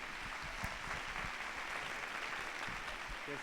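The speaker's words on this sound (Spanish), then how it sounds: "un aplauso a nuestros panelistas para cerrar" An audience at a talk between Jesuit panelists gives them a round of applause, a soft, continuous spread of clapping heard from a distance over a low background rumble.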